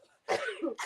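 A single loud, harsh cough bursts out close by, followed by a brief second rasp, in an otherwise quiet moment with no talking.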